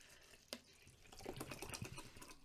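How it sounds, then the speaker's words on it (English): Faint water splashing and trickling into a glass while a strawberry lemonade drink is mixed, a soft pour with small splashes and drips, heard close and quiet with no talking. "It's probably going to be a lovely noise of the water tipping in."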